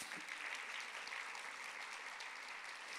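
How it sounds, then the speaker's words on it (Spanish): A church congregation applauds for the Lord, with continuous dense clapping at a fairly soft, steady level and no talking over it. "Gracias por ese aplauso por el Señor."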